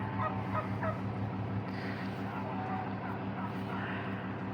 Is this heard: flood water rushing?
no